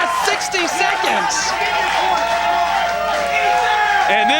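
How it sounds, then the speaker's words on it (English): A CWF Mid-Atlantic pro wrestling crowd roars and cheers on its feet, a loud sustained wall of voices and whoops with scattered applause, while a commentator talks over it. "And this crowd is on their feet."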